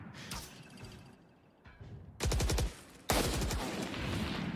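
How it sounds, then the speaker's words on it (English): Heavy sniper-rifle gunfire from the Marshal in the tactical shooter Valorant: sharp, loud cracks with ringing tails, separated by quieter gaps in an otherwise busy match soundscape. "People are in the middle killing each other with Marshalls."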